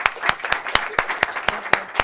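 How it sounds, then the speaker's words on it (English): A small audience at an XR technology conference claps in a sparse, evenly spaced rhythm, each sharp hand clap standing out distinctly and close by, with no voices over it. "give a great round of applause for all of our men here"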